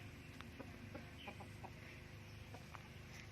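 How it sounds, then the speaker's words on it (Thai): Three laying hens kept at a rural farm give soft, scattered clucks over a faint, steady outdoor background hum, quiet and a little distant, with no voices. "อันนี้กะสิเป็นไก่ค่ะที่เลี้ยงเอาไว้อยู่นามีอยู่สามตัว"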